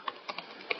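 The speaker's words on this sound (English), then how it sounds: "we want to type python-m pip" Four quick, faint keystrokes on a computer keyboard, spaced irregularly as a command is entered.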